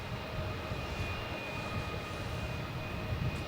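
A Singapore Airlines Airbus A350-900 at Melbourne Airport gives off a steady, distant engine roar, a continuous low rumble with a faint even whine, holding level throughout.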